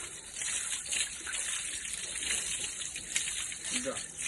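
Water gushes steadily over a motorcycle-drawn cart being refurbished, a continuous close rushing splash with no break, before the cart is primed and painted.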